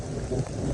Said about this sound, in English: I'm now being rained on really, really hard.